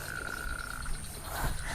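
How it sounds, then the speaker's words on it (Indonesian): Frogs croak in a noisy outdoor spot, probably at night in a frog-catching area, with a steady trill and a few low croaks at moderate distance, no voices. "Wah, itu ada kodok lagi tuh."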